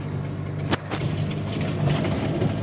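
A GAZelle van drives on a rough asphalt road, its engine a steady low rumble heard from inside, broken by a couple of sharp bumps and thuds from the road surface.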